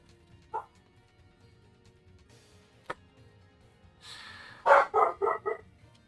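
A pet dog barks nearby, one short yip early on, then a burst of several quick barks in a row toward the end, over a quiet background.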